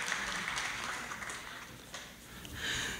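Moderate applause from the audience at a Bronx Community College fall convocation, a soft continuous patter of clapping that dips briefly and swells again toward the end.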